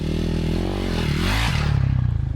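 A KTM 525 off-road motorcycle engine revs hard and close, a loud rough growl whose pitch climbs and drops before settling into a fast, pulsing idle.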